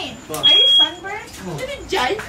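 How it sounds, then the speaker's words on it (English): One short, piercing electronic beep from a fire alarm sounds close and loud, cutting across excited voices talking and shouting indoors. "Or is it that's a fire alarm."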